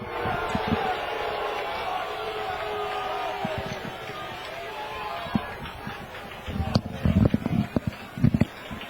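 A high school football stadium crowd at a Brother Rice versus Catholic Central game roars in a sustained wash of noise, then breaks into scattered louder shouts and bursts, with a commentator talking over it.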